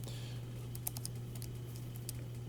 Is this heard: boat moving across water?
no